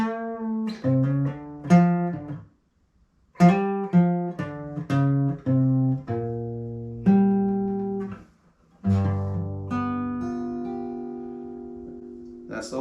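Guitar works through the chord progression of Marcus King's 'Wildflowers and Wine', including a dominant seventh, in groups of quick plucked chord strikes that ring out between short pauses, played alone and up close.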